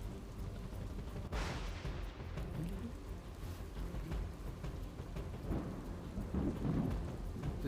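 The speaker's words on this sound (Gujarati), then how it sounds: "ધોધમાર વરસાદ છે" Heavy rain pouring over Junagadh city streets, a dense steady roar with a sharp thunder crack early on and further low rumbles later.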